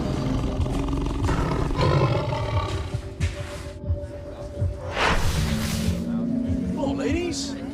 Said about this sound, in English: All of a sudden, there was a tiger in there.